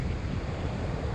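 Caribbean ocean waves at Condado Beach, Puerto Rico, wash in as a dense, continuous roar mixed with wind buffeting the microphone, loud and close, with no talking.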